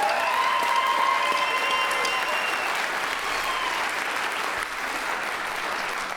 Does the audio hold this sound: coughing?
no